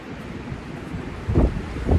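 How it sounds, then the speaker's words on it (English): Steady outdoor wind buffets the microphone in a low rumbling roar, swelling into two stronger gusts near the end; no one speaks. "Stuff's blowing all around. Skeezy and breezy out here today."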